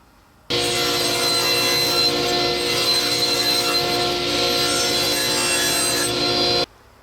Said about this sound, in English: I'm going to square it off and cut out of it the largest piece that I can get